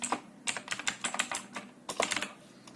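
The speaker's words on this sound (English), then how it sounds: "If you, for instance, type here your name" Fingers type a name on a computer keyboard in quick uneven clusters of soft, close key clicks, with a brief pause partway through.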